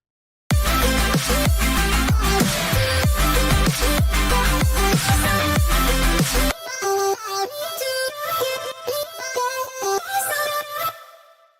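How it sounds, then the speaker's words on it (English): Chopped vocal samples stutter through a loud, dense electronic song, then continue over a thinner, choppier pattern before the music abruptly stops. "I already have 2 iterations of vocal chops that I thought about using."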